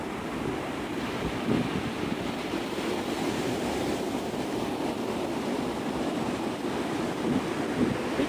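Ocean surf rolls in steadily at Navarre Beach on the Florida Gulf coast near Pensacola at sunrise, a continuous broad wash of breaking waves with some wind buffeting the microphone and no voices.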